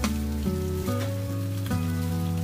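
Pork belly stir-fries in a hot wok with Sichuan peppercorns, scallion and ginger, giving a loud continuous sizzle with brief clatters of stirring.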